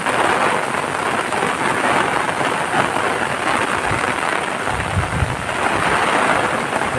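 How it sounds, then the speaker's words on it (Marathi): Heavy rain pours steadily in a rural Konkan setting, a loud, dense, unbroken hiss that stays constant throughout with no voices. "मित्रांनो आता पावसान जोर धरलेलो हा"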